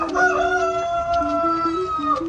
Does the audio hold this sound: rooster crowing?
yes